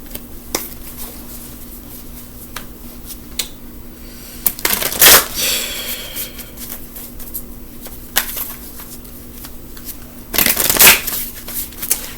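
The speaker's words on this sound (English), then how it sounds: "Spirit is telling me to shuffle." Quiet rustling of tarot cards being handled, with two brisk shuffling bursts, one midway and one near the end, and no talking.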